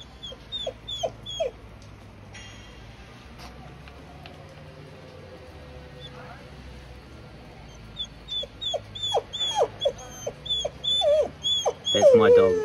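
A dog barks in sharp repeated bursts, sparse at first then more rapid and insistent toward the end, with a few high yelps mixed in.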